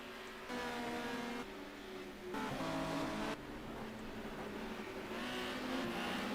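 TCM touring race cars circuit Oulton Park, their engines roaring and shifting in a steady, loud drone as several cars pass in sequence, with rising and falling pitch between gear changes.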